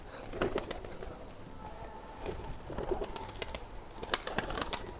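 White pigeons coo and flutter nearby against a steady outdoor background, with a few sharp bird calls and wing sounds scattered throughout.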